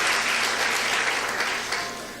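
A church congregation applauds during a service, producing a thick, continuous wash of many hands clapping that fades slightly toward the end.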